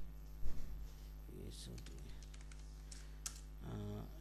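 Keys are tapped on a computer keyboard, finishing with a press of the enter key; light, sparse clicks sound close by, mixed with brief spoken words.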